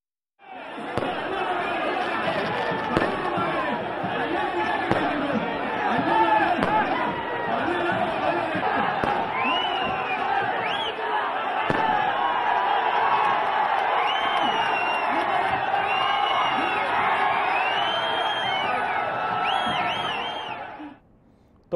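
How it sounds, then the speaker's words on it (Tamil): A dense crowd of AIADMK party workers in Salem shouts and cheers a welcome for their party leader. Many raised voices overlap in a continuous roar for about twenty seconds before it ends abruptly. "தொண்டர்களின் அன்பு வெள்ளத்தில் சிக்கிக்கொண்ட எடப்பாடியார் மீது அவர்கள் பூக்களை தூவி கோலாகல வரவேற்பு அளித்தனர்"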